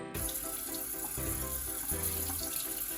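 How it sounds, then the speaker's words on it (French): Tap water runs steadily into a sink over cooked broccoli at a kitchen counter, with a constant close hiss and a few faint clatters. "Maintenant je stoppe ma cuisson en passant le brocoli sous le robinet."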